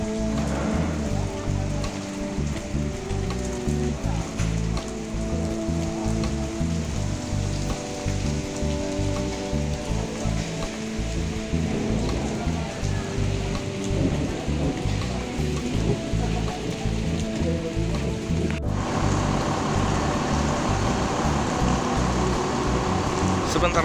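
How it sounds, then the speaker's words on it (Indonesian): Steady rain pours down in Jakarta, a dense, continuous hiss layered over a low droning hum that holds throughout and shifts slightly near the end. "jadi rata nih Jakarta Bogor hujan."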